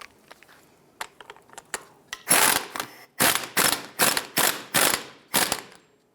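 Ratchet tightening the nut and washer on a 2000-2006 Toyota Tundra driveshaft center support bearing: a few faint clicks first, then a run of loud, sharp ratcheting bursts in quick succession, close up and with no talking.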